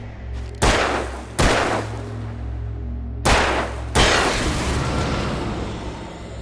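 Four loud gunshots from the video game Alan Wake, fired in two pairs, each sharp crack trailing into a long decaying echo over a steady low ambient hum, with no voices.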